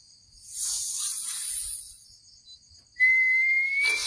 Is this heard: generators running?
no